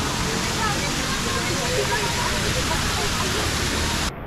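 Heavy water crashing down at Tumalog Falls in Oslob, Cebu, a dense continuous roar that stays steady and loud throughout, then drops off abruptly just before the end.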